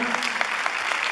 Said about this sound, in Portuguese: Palmas para eles, né?